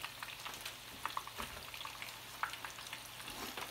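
Steady soft sizzling of chicken cutlets frying in oil, with occasional louder pops and crackles over a low background hum.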